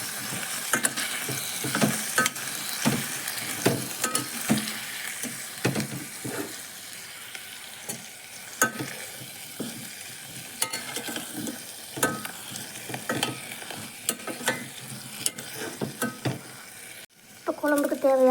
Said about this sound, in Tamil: தனியாத்தூள் சேர்த்து நல்லா கலந்துக்கலாம்